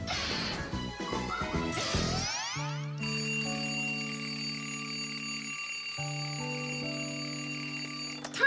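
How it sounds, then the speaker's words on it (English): A cartoon alarm clock rings shrilly, starting with a jangling clattering bell burst and then settling into a sustained electronic-sounding ring of steady tones that continues loudly to the end. "why is your alarm clock ringing in the middle of the night"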